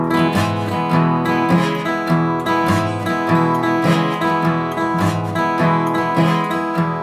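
A steady swinging country groove with a loping bass line walking under bright strummed chords and a shuffling beat, continuous and even in level.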